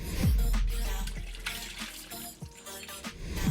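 Water from a pot of boiled potatoes pours into a kitchen sink, a steady splashing gush close by with no talk over it.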